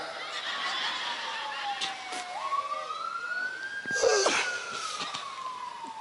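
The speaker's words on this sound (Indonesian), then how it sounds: "Sik enek ambulan liwat." An ambulance siren sweeps past with a steady wailing tone that rises and then falls in pitch as it goes by, over a constant background of street noise.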